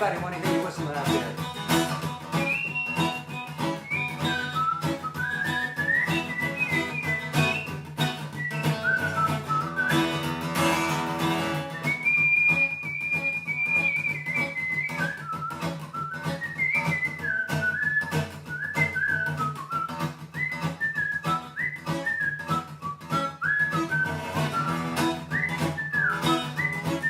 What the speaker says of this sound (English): Anybody want to hear you whistling out there?